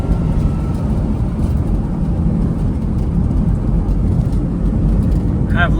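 An old car that is low on fuel and was hard to start cruises in fourth gear. A loud, steady engine and road rumble drones close up without letting up, with faint voice-like sounds in the cabin.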